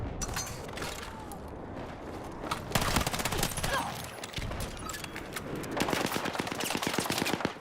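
Rapid bursts of automatic gunfire and a few heavier shots fill a Battlefield 6 firefight, loud and continuous, with brief mechanical clatter in between.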